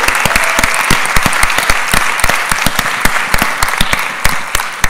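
Loud audience clapping for a panel at a city-themed summit, with crisp individual claps ringing out over a steady bed of crowd applause.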